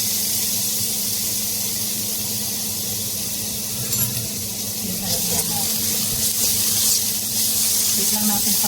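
A small amount of garlic fries in a little oil for chicken adobo, making a continuous close sizzle and hiss with occasional stirring scrapes, while a voice talks quietly underneath.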